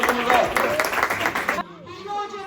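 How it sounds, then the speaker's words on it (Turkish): An audience claps at a chess tournament ceremony in Kastamonu, a short burst of applause that cuts off abruptly, followed by a voice speaking. "Lütfen alkışlayalım"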